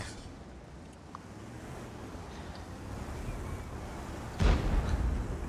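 One heavy tank cannon blast from the video game World of Tanks booms near the end, cutting through a steady low rumble of engine and wind-like noise.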